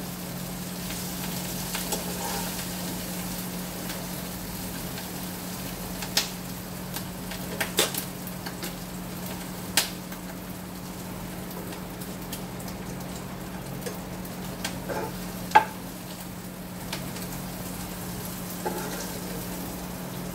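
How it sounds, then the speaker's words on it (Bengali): Potatoes and prawns fry in a pan with a constant loud sizzle, broken by a few sharp clicks and knocks as they are stirred; nobody speaks. "একদিকে আমার আলুটা ভাজা হয়ে গেল, আর একদিকে চিংড়ি মাছটাও হয়ে গেছে।"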